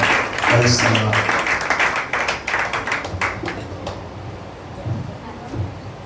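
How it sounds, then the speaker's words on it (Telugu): A church congregation claps in a burst of applause that is loudest at first and then thins out, while someone speaks over it. "ఒకసారి చప్పట్లు కొట్టి దేవుని మనం ఘనపరచుదాం"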